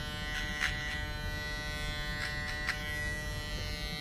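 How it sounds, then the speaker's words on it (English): A Caliber 22 Stinger magnetic hair edger runs with a steady, high electric buzz, close by and fairly quiet. A few brief louder touches come through as it meets hair. "I got this edger. It's 22 Stinger by Caliber."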